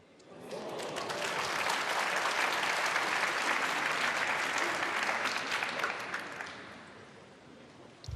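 Snooker crowd at the 2023 International Championship final applauding: sustained, dense clapping that swells quickly, holds steady for several seconds, then slowly thins out near the end.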